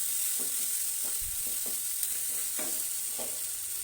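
Garam masala and turmeric fry in oil with a steady, faint sizzle, while a spoon stirs and scrapes the pan in soft, irregular strokes.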